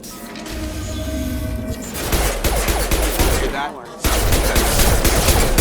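Gunfire in Mass Effect 2, loud rapid bursts of automatic shots and heavy impacts rattling close by, with a brief dip before the shooting resumes hard.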